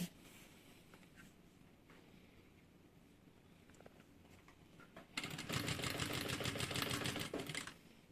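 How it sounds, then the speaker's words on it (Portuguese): Quiet room tone and small handling noises give way to a sewing machine running a second seam along the edge of a cosmetic bag, a rapid steady stitching whir lasting a few seconds before stopping. "E agora eu vou fazer uma segunda costura, que é essa que vai um pouquinho mais para fora."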